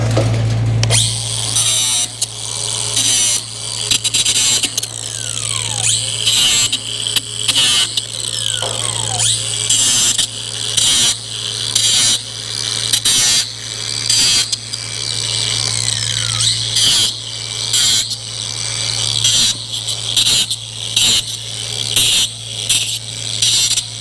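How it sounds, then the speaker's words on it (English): Milwaukee angle grinder cutting through a stapled fence, a loud continuous whine with a steady hum, broken by brief repeated interruptions and bursts of grinding noise, close to the microphone. "we get our Milwaukee grinder and we cut this right off"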